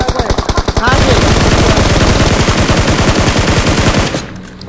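Rapid automatic gunfire in a battle royale mobile game match, loud and close, a fast continuous burst of shots that keeps going for several seconds before cutting off.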